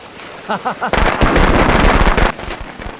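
A loud, rapid string of firecrackers bursts close by for over a second, following a few short shouted voices, then the crackling trails off.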